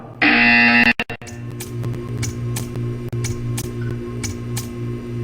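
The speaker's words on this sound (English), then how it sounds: "When you hear the buzzer, stare at the art." A loud electronic buzzer from the video game Portal 2 blares for under a second, then cuts off, leaving a low hum with faint ticking clicks.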